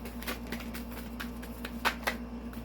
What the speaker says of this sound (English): Two more shuffles and I will pull from the top.